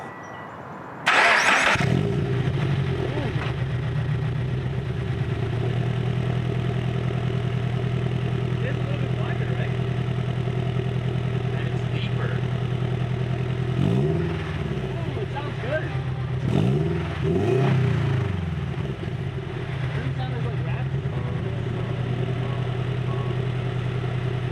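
A 2016 Subaru FRS fitted with a new GReddy exhaust starts up and settles into a steady, loud idle close by, with a couple of brief blips of revving partway through and no talking.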